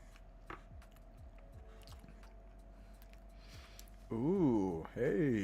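Soft, close-up chewing and squishing of a strawberry crepe, with faint repeated bites, followed by a person speaking near the end.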